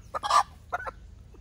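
Desi chicken clucking outdoors in a forest camp, a few short clucks in two bursts, fairly close and clear with no talk over them.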